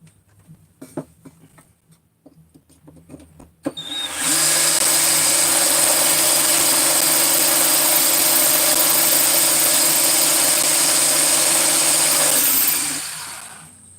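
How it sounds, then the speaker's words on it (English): A right-hand power drill starts after a few light clicks and handling noises, then runs loud, steady and close for about nine seconds before winding down; no one talks. "this is a right hand drill"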